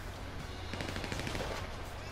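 Rapid automatic gunfire rattles out in a short burst during GTA V gameplay, fairly quiet and muffled under a steady low background hum.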